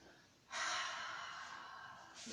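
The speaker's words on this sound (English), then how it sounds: "A couple of inhales through the nostrils. Exhale through an open mouth." One long exhale through an open mouth, a soft breathy rush that starts abruptly and fades slowly, with a new breath starting at the very end, quiet and close.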